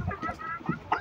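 Chickens and young chicks on a poultry farm cluck in short, repeated close bursts, with a voice faint underneath.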